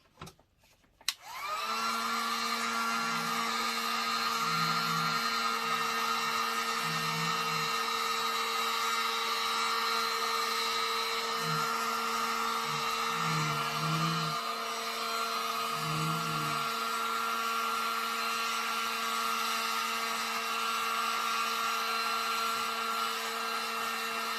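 A dust collection fitting is heated with a steady, fairly loud blowing roar that starts abruptly after a click and runs without a break, with faint low murmurs underneath.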